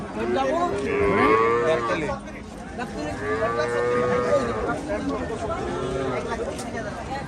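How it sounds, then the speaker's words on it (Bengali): Cattle at the Hazratpur cattle market in Bangladesh give several long, nearby moos, rising and falling, over a steady background of crowd chatter and voices. "খুবই সুন্দর গরু, খুবই সুন্দর।"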